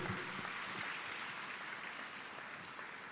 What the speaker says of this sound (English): let's put our hands together and give all of them another well-deserved round of applause